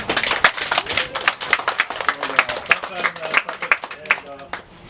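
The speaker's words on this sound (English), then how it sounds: "Let's give a big round of applause to our instructor, chief instructor, Kayona." A cooking class audience claps for its chief instructor: sharp, uneven hand claps at close range keep going throughout, with a voice talking over them.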